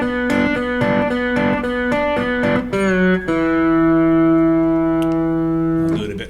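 Twangy slide guitar notes in open E tuning pluck in a quick rhythmic run, then slide down into a ringing open chord that sustains and slowly fades.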